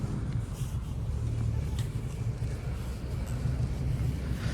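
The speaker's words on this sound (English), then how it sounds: "Oh, you can hear the trains going by." A steady, low rumble of subway trains rolls past at a distance at Woodbine Station in Toronto, a continuous droning roar with no voices over it.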